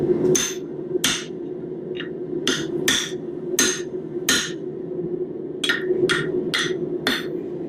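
A metal hammer strikes a metal punch about a dozen times in irregular bursts while making a round bottle opener, sharp ringing clanks close by with short pauses between them.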